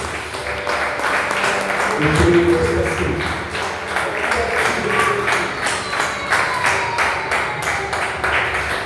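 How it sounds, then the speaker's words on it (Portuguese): Church congregation applauding during a sermon, steady rapid clapping from many hands filling the room, with a voice speaking over it. "aplauda o nome de Jesus agora"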